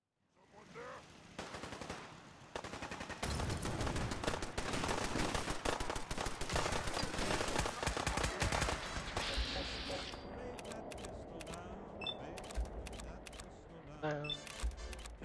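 Fallout 4 gunfire: bursts of rapid automatic shots from an in-game weapon rattle for several seconds, then give way to scattered single shots and softer game sounds.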